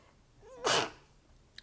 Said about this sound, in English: I don't know why I always sneeze when I'm recording.